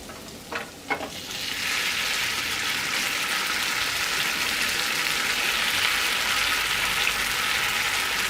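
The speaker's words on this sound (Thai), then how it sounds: "เราต้องผัดเส้นก่อนนะคะ ผัดเส้นมัน ไม่ต้องทำมันมากนะ พอประมาณใส่กระเทียมไปนิดหนึ่งก่อนนะคะ" Rice noodles stir-fried with garlic in hot oil in a wok: a steady, loud sizzle fills the clip after a couple of brief clanks of a spatula at the start.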